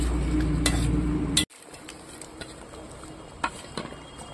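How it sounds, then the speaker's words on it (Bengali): Eggplant and small fish tip into a pot of simmering curry with a loud sizzling stir for about a second and a half, then the pan settles to a quiet bubbling with a few light clinks of a utensil. "এখন দিয়ে দেবো বেগুন। বেগুনের সাথে সাথে মাছগুলোও দিয়ে দেবো।"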